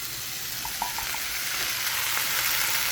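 Potatoes fry in a pan for aloo palak with a steady, close sizzle and hiss of hot oil, continuous throughout with a few faint clinks, and no talking.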